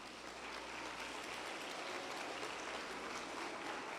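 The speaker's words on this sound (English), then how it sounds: "Please, a round of applause." A crowd applauds at a Model United Nations session, a fairly quiet, even wash of many hands clapping that holds steady from start to finish.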